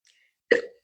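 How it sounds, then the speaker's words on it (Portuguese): A woman hiccups once, a single short, close catch of the breath in a quiet room, with a faint sound just before it. "me deu soluço agora"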